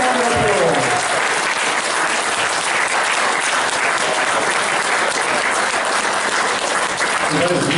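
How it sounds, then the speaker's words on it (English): Wedding guests at the speeches break into sustained, dense applause that holds steady and loud throughout, with a voice briefly heard at the start. "Give a round of applause."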